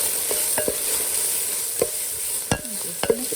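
Garlic sautés in a pot for a vegan potato kale soup, giving a steady bright sizzle broken by a few sharp scrapes and knocks of a spoon as it is stirred.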